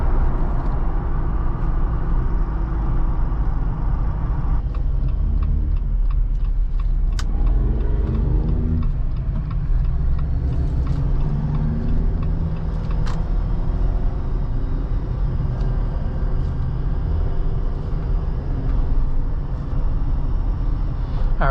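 Steady interior road noise inside a 2021 Jeep Wrangler Rubicon taking a corner quickly, with a continuous low rumble of tires and engine and faint rattles and clicks throughout, no talking.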